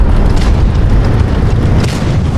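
A tank cannon in World of Tanks blasts out a loud, deep boom that rolls into a sustained heavy rumble filling the whole stretch, with no voices over it.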